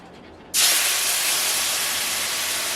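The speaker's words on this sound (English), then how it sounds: "So it's steaming." A sudden loud steam hiss erupts as juice hits a hot pan for steamed cheddar cheeseburgers, then holds as a broad, continuous sizzle-hiss close by.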